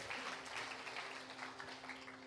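A church congregation applauding, a faint, steady wash of claps throughout with a low hum underneath.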